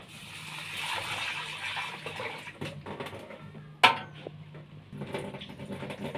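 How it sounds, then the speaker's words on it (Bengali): Lentils (dal) are rinsed by hand in a kitchen vessel, with steady sloshing and swirling water at close range and one sharp knock against the container partway through. "ডালটা ধুয়ে নিই।"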